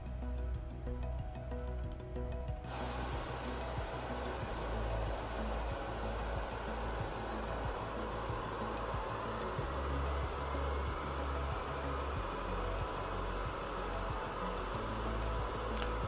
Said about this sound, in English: Starting engine number 1.